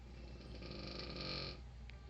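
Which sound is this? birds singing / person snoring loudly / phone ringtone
person snoring loudly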